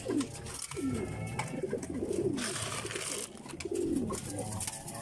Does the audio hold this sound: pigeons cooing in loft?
yes